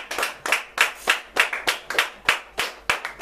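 A church congregation claps in unison during a service, a loud, near, rhythmic run of sharp hand claps at a steady beat, with no voices over it.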